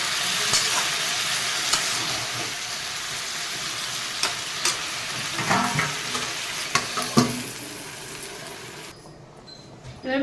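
Hilsa fish head and Malabar spinach with taro and stems stir-fry in a pan, giving a steady close sizzle broken by light scraping stirs from a spatula.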